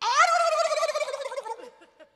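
A person imitates a turkey gobbling, a loud, quavering warble that rises sharply, then shakes in a long descending trill and fades over about two seconds, with no other voices.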